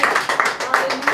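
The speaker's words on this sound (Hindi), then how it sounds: "ताली बजाओ उनको।" A church audience claps in a quick, steady series of close, sharp hand claps lasting about a second.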